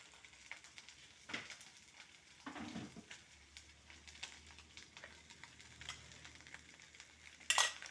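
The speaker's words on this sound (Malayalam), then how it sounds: "എന്നിട്ട് നമുക്കതെല്ലാം കൂടെ ഒന്ന് യോജിപ്പിച്ചെടുക്കാം" Spices, chili powder and turmeric, being stirred into chicken and vegetables in a pan, a quiet scraping and faint sizzle with soft clinks of a utensil, one sharper clatter near the end.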